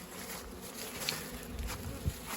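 Honeybees fly around beehives on a warm spring day, a soft, steady buzzing hum close by, with a few faint knocks and no talk.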